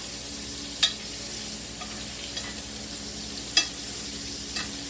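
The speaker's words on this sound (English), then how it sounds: "look at the nice sear that it's getting" Steak sears in butter in a pan, a steady moderate sizzle with a few sharp utensil clicks, no talking.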